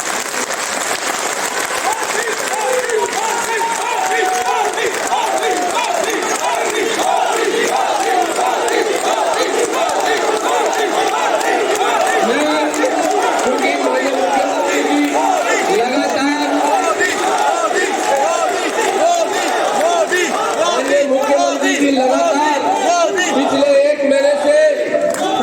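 A large crowd claps steadily at a political community event in Ajmer honoring the chief minister, the dense noise holding for the full length with voices and shouts mixed in.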